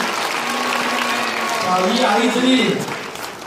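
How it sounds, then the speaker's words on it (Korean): A church congregation at an anniversary performance applauds children, a loud burst of clapping and cheering that swells and then tapers, while someone talks over it. "한 번 더 박수!"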